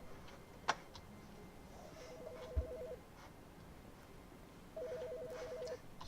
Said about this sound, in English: Telephone ringing.